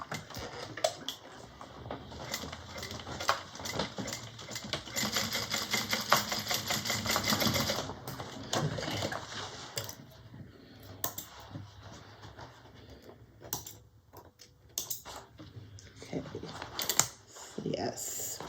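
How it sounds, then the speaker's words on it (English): A sewing machine stitching back over a bag seam in bursts, a close whirring rattle that runs for several seconds and then stops and starts, with a person talking quietly over and between the runs. "let me be very careful going back over this and sew it again"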